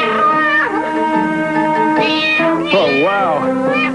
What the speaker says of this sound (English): it's a King Kong kitty